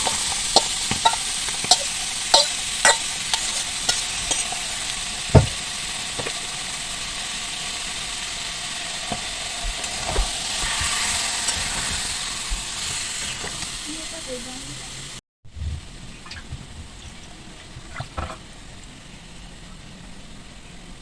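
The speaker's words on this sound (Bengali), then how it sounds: "এইবার আমি কড়ার মধ্যে চিকেনটা পুরো ঢেলে দেবো।" Marinated chicken, cooked without oil or onion, hits a hot kadai with a loud, steady sizzle and hiss, dotted with sharp clicks and pops and broken by one brief cut near the end.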